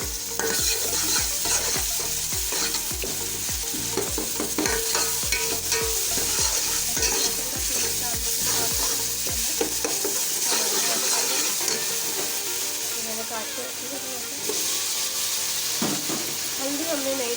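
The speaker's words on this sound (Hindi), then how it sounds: "इसके बाद हम अदरक लहसुन का पेस्ट डालेंगे इसके अंदर" Ginger garlic paste stirred into sizzling fried onions in a hot pan for yakhni pulao, steady loud frying hiss with rhythmic scraping stir strokes throughout, no talking.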